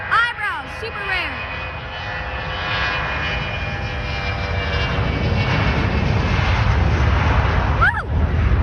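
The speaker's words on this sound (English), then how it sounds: "Tail jet takeoff." An MD-82 jet airliner with tail-mounted engines takes off at John Glenn International Airport, its engine roar swelling into a loud, steady rumble. Brief voices come at the start and near the end.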